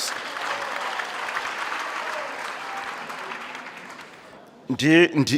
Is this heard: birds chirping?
no